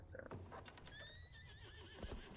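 Horses in the video game Pathfinder: Wrath of the Righteous let out a clear rising and falling whinny over muffled hoof clip-clops and shuffling, fairly near and heard alone with no talk.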